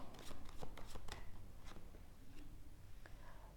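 Tarot cards shuffled for a three-card Aries reading, a quick flurry of soft riffling snaps up close that then fades into quieter rustling over a steady background hiss.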